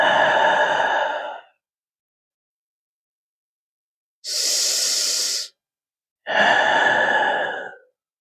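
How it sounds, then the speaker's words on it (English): Slow, deep breaths during a yoga pose, heard alone in a quiet room: a long exhale, a pause of silence, a brief hissing inhale, then another long exhale. "We'll stay here for 5 breaths."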